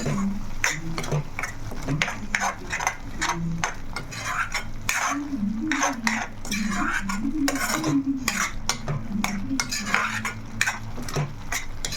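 Spoon stirring chili powder into a fish curry of small fish in a metal pot, with steady scraping and clinking strokes over a soft background sizzle, close and continuous.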